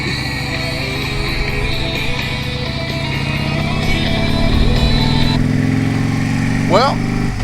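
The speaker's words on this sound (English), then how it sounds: "Somebody go out there and turn that motor off before he hurts himself." A motor running outdoors in the mid-1950s, a loud steady engine drone with shifting pitch and a rough mechanical rumble throughout, with a voice talking over it.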